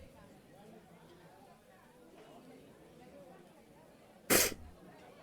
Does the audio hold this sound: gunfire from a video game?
no